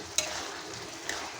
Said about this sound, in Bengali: হলুদ দিয়ে খুব ভালো করে নেড়ে নেব।